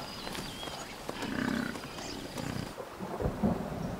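Low, rumbling thunder from gathering storm clouds on the African savanna, rolling in soft swells across a few seconds with broadband noise, distant and moderately loud, with no talk.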